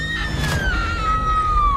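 A woman's single long, high scream, used as a sound effect in a horror story, drawn out and slowly falling in pitch, loud and close against a low rumbling background.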